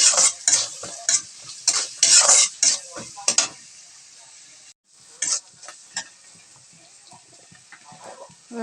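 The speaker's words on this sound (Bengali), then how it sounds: "ভেজে নিই" Greens with turmeric and salt fry in a pan while a utensil stirs them, loud scraping strokes in quick bursts over a steady sizzle that quietens and turns sparser toward the end.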